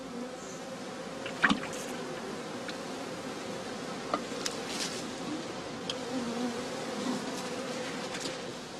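Honey bees buzz steadily around straw skep hives on a farm in the northern German heathland, a continuous low hum with a few closer insects passing by, and no voices.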